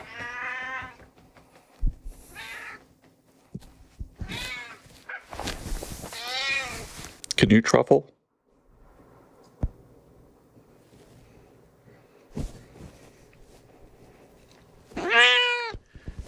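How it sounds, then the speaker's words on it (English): A domestic cat meows repeatedly, several drawn-out, close, fairly loud calls with quiet gaps between them, plus a few soft taps, while a person briefly speaks. "Hi, cat."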